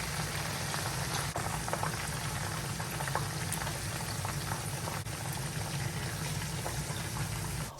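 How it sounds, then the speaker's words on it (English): Red snapper frying in hot oil, a continuous bubbling sizzle with scattered crackles and pops, steady at moderate level with a low hum underneath and no talk. "I'm now going to add my fish in the oil."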